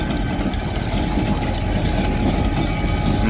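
Escanaba and Lake Superior Railroad train 502, hauling empty tank cars, passes close by with a loud, steady rumble and rhythmic clickety-clack of wheels over the rails.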